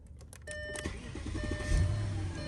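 A 2007 Audi A8L D3 Quattro starting after a start-stop button replacement: a brief electric whir and clicks, then the engine catches and settles into a steady low idle, close by.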